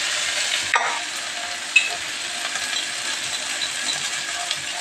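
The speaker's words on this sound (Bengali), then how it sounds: "কত সুন্দর হয়ে গেছে ভাজা ভাজা।" Fish oil frying and being stirred in a pan, a steady soft sizzle with a sharp scrape or clink of the utensil near the start, close and continuous, with no talking.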